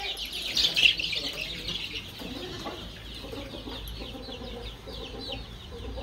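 Chickens cluck and squawk close by at a village farmyard, a busy burst of calls near the start easing into softer clucking amid faint background noise.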